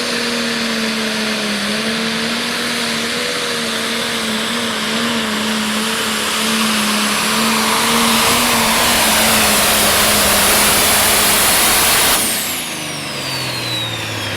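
A pulling tractor's engine revs hard at a tractor pull in Buck, holding a loud, roaring, climbing drone. The engine drops sharply near the end.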